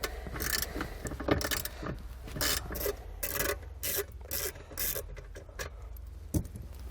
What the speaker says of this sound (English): So now we'll take a 9/32 inch socket. We'll go ahead and remove that bolt.